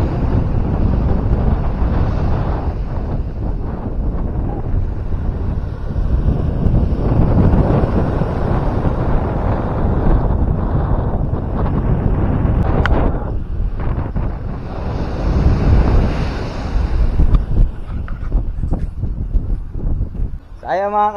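Wind and waves at the seashore: a steady, rough roar of wind buffeting the microphone over surf, continuing without a break throughout.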